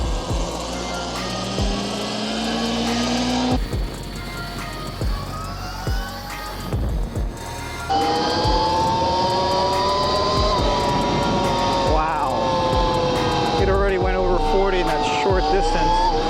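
An 88V Extreme Wheel ES electric dirt bike rides off-road at low power, its motor giving a rising and falling electric whine over wind noise and rumble, with people talking during the ride.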